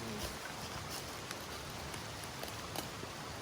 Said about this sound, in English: Of course, the rain's like picking up now.